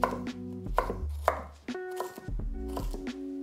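Carrots minced with a knife on a cutting board: a rapid, close, loud run of sharp chopping taps, irregular in rhythm, with no talking.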